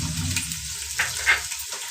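Onions and whole green chilies fry in oil for biryani, giving a soft sizzle with a couple of brief stirring clinks in a quiet kitchen.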